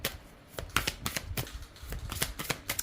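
Oracle advice cards being shuffled by hand in rapid, crisp riffling bursts, close and loud, repeating in a quick uneven rhythm with no talk over it.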